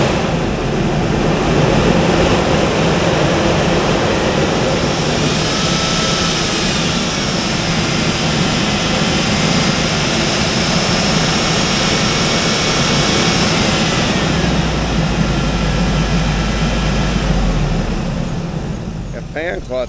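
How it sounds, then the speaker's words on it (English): A 2004 Hummer H2 with an LQ4 V8 idles loudly up close while its fan clutch roars, a steady whooshing rush of air over the engine's drone that holds for the whole stretch and eases slightly at the end. "That fan clutch doesn't want to give up. It's moving all the air."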